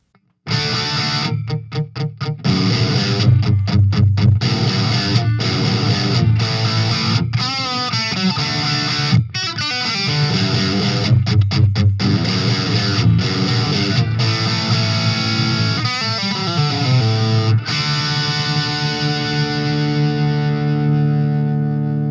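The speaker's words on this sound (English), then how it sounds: "I hope you enjoyed the tones of this amp" Electric guitar through a Fender Champion II 25 amp with effects, distorted and reverb-heavy, playing a steady run of chords and notes for about twenty seconds, loud and continuous with a final ringing chord fading out.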